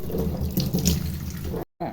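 Tap water runs steadily into a sink as hibiscus flowers are washed under it, a close, continuous splashing that cuts off abruptly near the end before resuming briefly.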